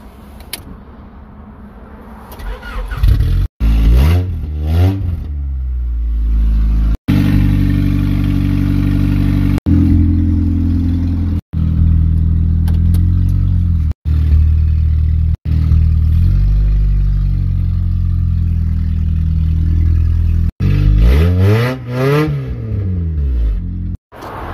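A tow truck engine revs loudly and drives off. Rising and falling engine pitches repeat through several abrupt cuts, close and loud, with brief quieter gaps between surges.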